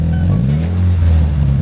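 A Toyota GT86 fitted with an Invidia exhaust gives a short, close rev, a deep, throaty engine burst with no speech over it.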